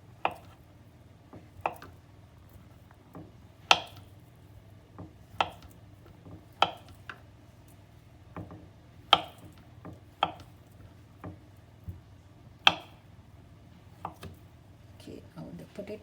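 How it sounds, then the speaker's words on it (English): A knife chops potatoes into pieces on a board for a coconut cream potato curry, producing sharp, distinct close-up thuds spaced irregularly about a second apart over a quiet room, with no talking. "You can cut it into pieces."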